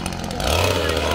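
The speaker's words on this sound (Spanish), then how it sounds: "¡Qué empeño en tener motosierra, oye!" A chainsaw buzzes and revs steadily, growing louder after a brief moment, with voices faintly mixed in.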